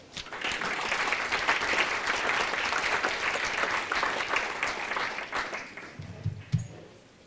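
An audience at a Statehood Day talk on Native Americans in Illinois applauds to welcome a speaker, a sustained close burst of clapping that thins out near the end, followed by a few brief thumps.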